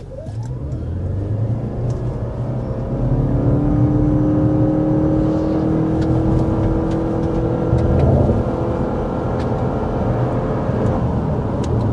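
A hybrid SUV accelerates hard to 60 miles per hour, with a steady loud engine and electric-motor drone that rises in pitch as speed builds, heard from inside the cabin with road noise and no talk.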